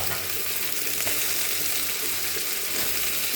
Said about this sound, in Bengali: আলু পেঁয়াজটা একসঙ্গেই ভাজা হয়ে যাবে।